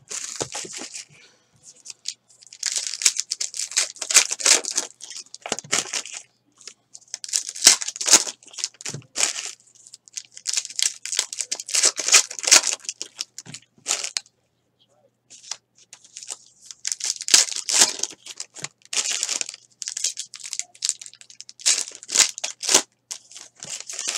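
Baseball card packs from a 2018 Elite Extra Edition half case being torn open and shuffled, with bursts of crinkly foil tearing and card flicking in irregular runs separated by brief pauses, close and fairly loud.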